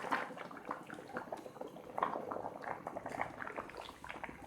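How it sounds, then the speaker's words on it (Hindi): Spaghetti boiling uncovered in a pot of water on high heat, a steady close bubbling and popping with no talk. "ढक्कन हटा दिया है क्योंकि पानी उबल के इस तरह बाहर गिर जाता है।"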